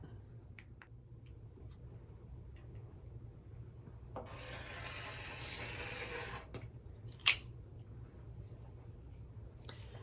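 A blade cuts a fabric strip for quilting in a single steady rasping stroke lasting about two seconds, quiet and close, followed by a brief sharp tick, with no talking.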